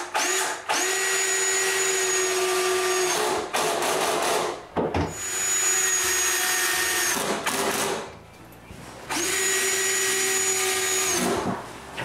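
A power drill driving fasteners to secure a bathroom cabinet to the wall, three long whining bursts of about three seconds each, close and loud, with brief pauses between them.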